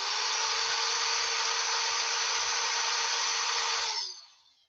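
A 3-amp electric drill runs at a steady, high whine for about four seconds, then cuts off and spins down quickly into silence. It is close and sounds alone, without talk.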